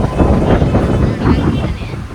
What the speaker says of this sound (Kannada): ಗಾಳಿ ಗಾಳಿ ಗಾಳಿ ಗಾಳಿ ಗಾಳಿ